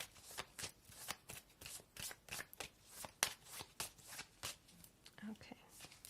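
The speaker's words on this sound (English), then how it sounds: "So as you form your question, let's pull some cards." Tarot cards being shuffled in close, rapid bursts of crisp riffling and flicking, with a soft voice murmuring in the background.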